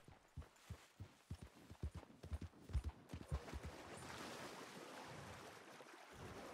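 Horse hooves clip-clopping in the video game Red Dead Redemption 2, a quick regular run of soft hoofbeats that fades into a steady wash of ambient noise.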